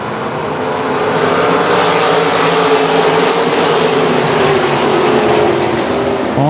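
Mid-Atlantic sprint cars roaring off at the green flag, a dense, loud, continuous engine drone from the whole field filling the air, with one car's pitch rising near the end.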